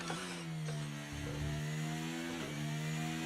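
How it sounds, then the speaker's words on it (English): An F1 car engine in the video game F1 23 revs up and climbs in pitch, a steady high whine with harmonics rising and dipping, heard alone without talk. "you heard the revs climb there and like the wheels spin"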